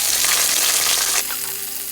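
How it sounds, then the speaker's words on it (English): Beef stir-frying in hot oil in a pan, a loud close sizzle that crackles steadily, then drops to a softer hiss as the meat is stirred. "stir this beef because I want to make sure that all the sides are a little bit brown"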